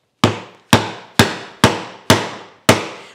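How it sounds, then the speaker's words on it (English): A chisel struck to chop a hand-cut mortise in clamped wood: six evenly spaced, sharp woody knocks about half a second apart, each close and loud with a quick decay, no talking. "every chop is quite easy because you just go all the way down and you just take out these chunks of wood"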